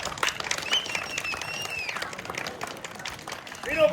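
An event crowd gives a burst of clapping and cheering that is moderately loud and fairly steady, with voices and whistles mixed in throughout.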